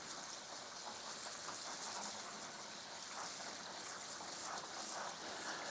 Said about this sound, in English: And then you want to give these a good rinse for sure.